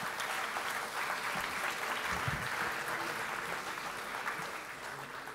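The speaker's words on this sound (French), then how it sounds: "Oui, vous avez le droit de l'applaudir." An audience at a political gathering gives a warm, steady round of applause for Anne-Marie Idrac, dense clapping that fills the hall and holds at an even level.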